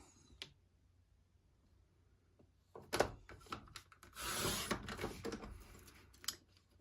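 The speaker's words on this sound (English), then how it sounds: "I'm going to cut a 3/8 inch strip from this pretty little floral one." Scissors or a trimmer slice a 3/8 inch strip from floral patterned paper in a quiet room, giving a few brief snips and then a longer rasping cut.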